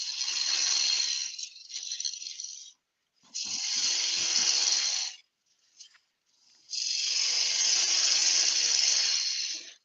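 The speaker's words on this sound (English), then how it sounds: "And then I keep my fingers out of the way when I'm sanding it." Abrasive paper sanding a spinning yew spindle on a wood lathe makes three long, close, hissing bursts separated by short pauses.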